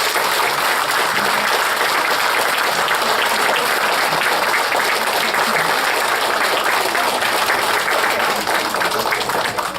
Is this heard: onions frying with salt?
no